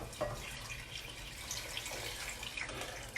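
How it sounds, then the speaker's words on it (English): Two quarts of brown stock poured into a pot of French onion soup, a steady watery splashing stream that runs continuously and fairly quietly for a few seconds. "I'm going to add my 2 quarts of brown delicious liquid, my stock"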